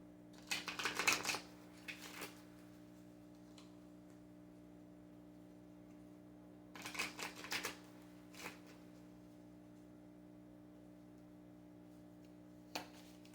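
Oracle cards (Kali cards) being shuffled in two main bursts of riffling and rustling near the start and middle, with a few isolated card taps between, close by over a steady low electrical hum; no talking.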